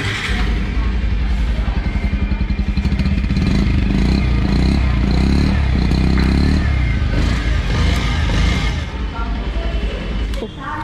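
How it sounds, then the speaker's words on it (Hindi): A Bajaj Pulsar 125 BS6 motorcycle with split seat and single disc, a 2023 model, starts and idles close by with a steady low thumping engine rhythm, plus a few light revs and some clatter. "बाइक स्टार्ट करके मैं आपको इसका इंजन साउंड सुना देता हूँ।"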